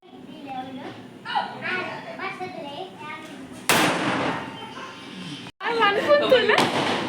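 Firecrackers go off at home for Diwali. Two loud, sharp bangs burst out partway through, while people talk throughout.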